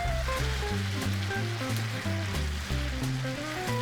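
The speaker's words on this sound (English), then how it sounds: "the onions are really sweating at this point" Onions sweating and sizzling in a pan for a caramelized onion tart, a steady broad hiss running throughout but partly covered by louder background music.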